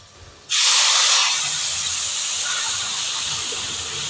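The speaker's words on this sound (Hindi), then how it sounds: "लग गया तड़का उड़द की दाल में।" A hot tadka tempering poured into urad dal in a home kitchen sets off a sudden loud sizzling hiss that stays close and steady, then eases slightly as it fades.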